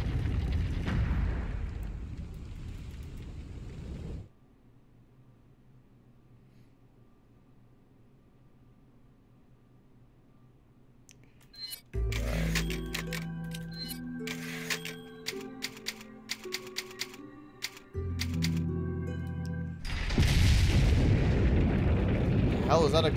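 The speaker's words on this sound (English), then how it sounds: "Explosion." An explosion in the video game Resident Evil 4 bursts out loud at the start and again near the end, separated by a quieter stretch of low game ambience and a rattling, clattering passage.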